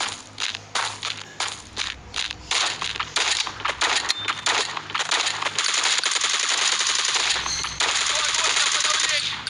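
Rapid gunfire bursts from the mobile FPS game Bullet Force crackle loudly and close, in rhythmic automatic volleys that turn into a near-continuous rattle, with a brief metallic ping in the middle.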